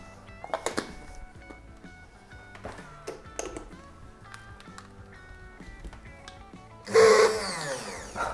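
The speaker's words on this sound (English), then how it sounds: "I'm going to mix it up to make a nice ginger lime mayonnaise" Blender mixing ginger lime mayonnaise, kicking in loudly near the end after a stretch of clinks, knocks and handling of a jar and lid in a kitchen.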